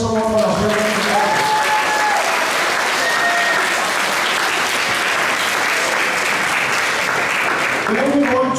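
At a junior prizegiving at Falkirk High School, a hall audience gives service award winners sustained, dense applause. Voices come faintly through at the start and end.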